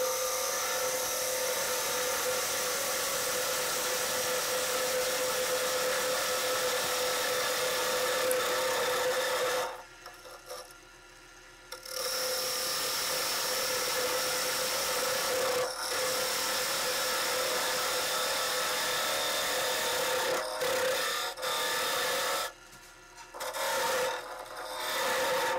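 A woodturning lathe spins a deep wooden goblet while a 3/8 wall gouge cuts it, giving a steady, loud scraping hiss. The sound drops out briefly several times as the tool lifts away from the wood.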